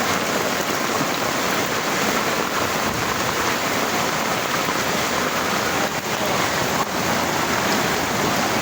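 Heavy rain pours steadily during a flood in a residential subdivision, a dense, continuous hiss of falling water close by with no talk.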